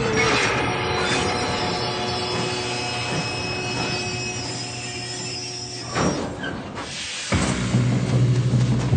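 A train rumbles steadily and loudly through a train robbery in the Red Dead Redemption 2 video game, with metallic squeals and clatter over a continuous roar and heavier bangs near the end.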